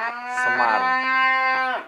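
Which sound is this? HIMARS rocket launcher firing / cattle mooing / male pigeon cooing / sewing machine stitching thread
cattle mooing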